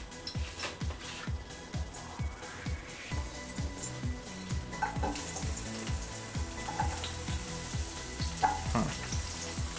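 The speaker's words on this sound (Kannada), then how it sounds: "ಅದಕ್ಕೆ ಫಸ್ಟು ನಾವು ಈರುಳ್ಳಿ ಹಾಕೋತೀವಿ." Onions sizzle in hot oil in a pan while a paneer masala is cooked, giving a steady frying hiss with scraping stir strokes and clinks close by, and no voices.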